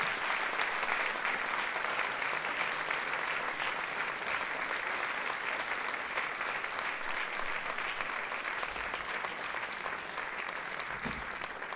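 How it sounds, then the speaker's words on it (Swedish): Steady, sustained applause from a concert audience at a fundraising concert for refugee children, a dense even clatter of clapping that fills the whole stretch with no pauses. "Snälla, ge henne en extra applåd."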